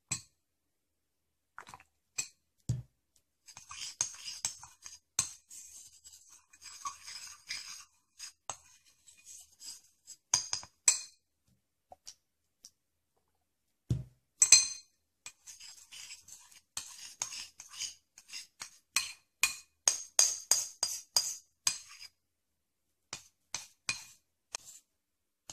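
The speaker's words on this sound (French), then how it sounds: "je mets un petit peu d'alcool et je remue" Small clinks and scraping taps as broken makeup powder is stirred with a little alcohol in a small container, coming in uneven bursts with quiet pauses between them.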